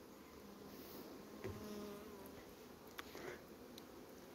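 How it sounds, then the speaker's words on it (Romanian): Honey bees buzz as they fly out of a hive on their cleansing flight from overwintered nucleus colonies, a steady faint drone with individual bees passing close by at a few moments, and no voices. "Sau de zumzetul la albină?"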